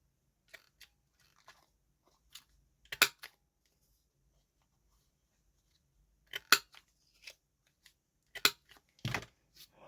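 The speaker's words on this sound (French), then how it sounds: "je prends les ciseaux pour faire un..." Quiet, scattered snips of scissors cutting paper, irregular crisp clicks with pauses between, a few louder cuts toward the end.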